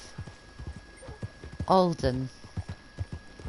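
Horse hooves clip-clop in the video game Red Dead Redemption, a few soft steps under someone talking, with a brief horse snort or whinny in the middle.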